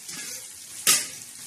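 Egg chutney with garlic, green chillies and salt stirred and fried in a pan gives a steady close sizzling hiss, with one brief louder scraping surge partway through. No one speaks.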